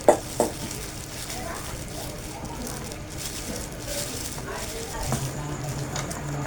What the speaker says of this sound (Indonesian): Kita aduk-aduk di sini sampai menyatu.